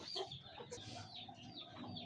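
A chick clucks softly nearby in short, irregular bursts, with faint background noise and no talking.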